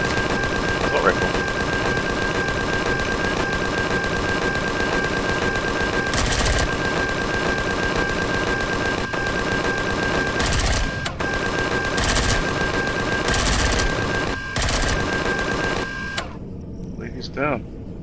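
Assault rifle gunfire in the Empyrion video game, heard as several short loud bursts spread through the clip over a steady game soundscape, with a person talking.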